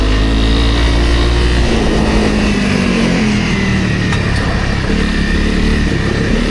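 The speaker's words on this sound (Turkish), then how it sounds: "Onun hem egzoz sesini hem fren sesini duyuyorum" An enduro motorcycle engine drones steadily and loudly throughout on a night forest trail, its exhaust note shifting slightly in pitch as it rides on.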